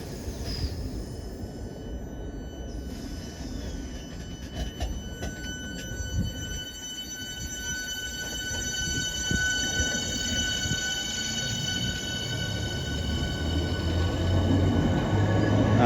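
A British Rail Class 465 electric train rolls past at Wandsworth Road station, a steady rumble of wheels on rail with faint high squeals, growing slightly louder toward the end.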